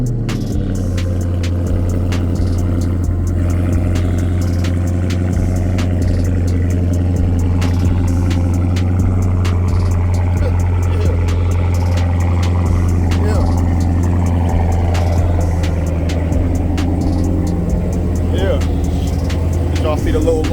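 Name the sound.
Chrysler 300C engine idling after cold start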